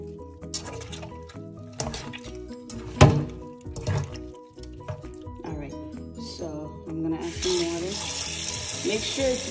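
Cold tap water splashes into a sink amid clinks and knocks of handling, then a steady full stream gushes for the last couple of seconds.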